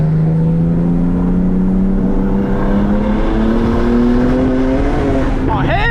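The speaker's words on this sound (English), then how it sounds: "Is that your wastegate dump or something?" Single-turbo BMW 135 engine revs loudly and continuously with a rising whirring tone and turbo rush, close by, with people talking faintly beneath it.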